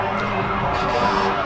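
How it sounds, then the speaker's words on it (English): An ambulance siren wails steadily from a county ambulance service unit rolling along in a Christmas parade, heard at moderate distance over a constant background rumble of the street. "Here's another ambulance service for the county, Vital Care."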